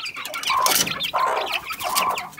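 Poultry, with a turkey among them, cluck and squawk as they are let out at a farmstead, a few loud close calls in quick succession with no talking.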